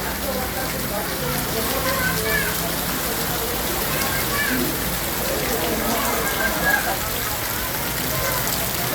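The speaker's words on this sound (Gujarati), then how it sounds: "અંધાધાર વરસાદ ચાલુ છે" Heavy torrential afternoon rain pours down in Wankaner, a dense, steady roar of drops that stays loud and unbroken throughout, with faint splashing mixed in.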